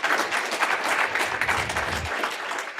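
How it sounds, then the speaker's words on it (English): Lecture audience applauding at a diversity lecture series, a steady wash of many hands clapping that holds for the full stretch without pause. "Can we give another round of applause for Dr."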